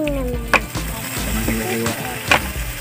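Fish sizzles steadily in a pan of sautéed garlic and onion over a charcoal stove. Sharp clinks of a utensil against the pan cut through twice, and a low background rumble sits underneath.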